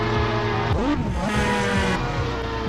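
A car is driven in the game GTA San Andreas online, with the engine revving up and down, tires squealing through turns, and the sound loud and close.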